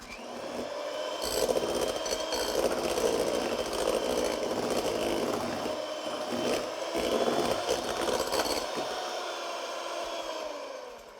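An electric mixer whirs steadily while whipping egg whites, a continuous close motor hum with slight shifts in pitch as the beaters move through the bowl.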